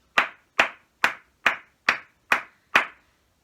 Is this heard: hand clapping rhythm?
yes